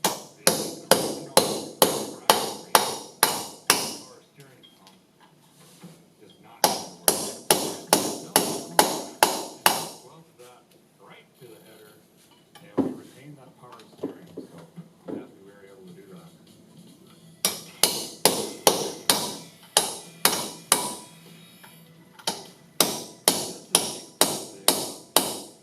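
Rapid bursts of metallic hammer blows on engine parts while bolts are being worked, loud and close, coming in fast runs of about eight strikes separated by quieter pauses of clanking and handling.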